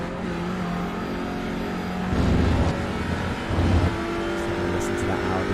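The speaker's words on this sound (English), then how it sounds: "Listen to that Audi in those curves." An Audi race car engine in a sim racing game round at Silverstone, droning steadily through curves with brief swells of revving, heard beneath commentary.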